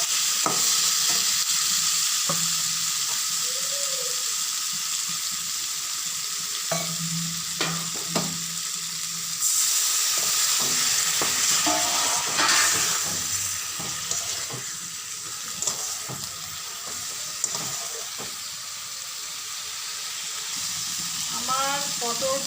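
Pointed gourd sizzles and fries in a pan after a splash of water, with steady broadband hiss throughout and repeated scraping stirs of a spatula, occasional louder clatters near the pan, no one speaking.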